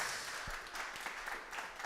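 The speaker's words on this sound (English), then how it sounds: "A big round of applause for him for coming here in Verona." Audience applause at a live session in Verona, a steady wash of clapping from a small crowd, even and sustained for the whole moment.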